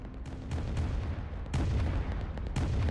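An aircraft carrier attacking a battleship in the Roblox game Rise of Nations, a rolling series of deep booms and blasts roughly once a second over a continuous low rumble.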